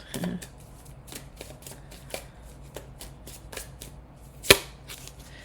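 Tarot cards shuffled by hand, close and clear: a run of soft riffling swishes and taps in an uneven rhythm, ending with one sharper snap near the end, with no talk over it.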